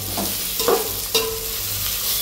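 Ginger-garlic paste being stirred and fried in a pan for dum biryani, with a soft sizzle and a couple of brief scraping stirs, close and alone without talk.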